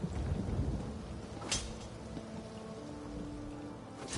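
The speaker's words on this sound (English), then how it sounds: "We just put out for Haven when this storm hit." Steady heavy rain from a thunderstorm in the video game Elder Scrolls Online, with rolling thunder cracks near the middle and end of the clip over a constant downpour.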